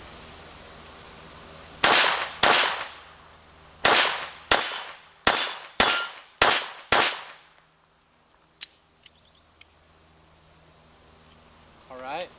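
A Mauser 1914 pocket pistol in .32 ACP, fed from its own magazine, fires seven sharp, loud shots in a quick uneven string, followed by faint metallic clinks and handling noise.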